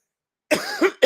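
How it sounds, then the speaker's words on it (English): Sudden close coughing after a brief silence: a raspy hack followed by two more quick coughs. "Coughing like a maniac."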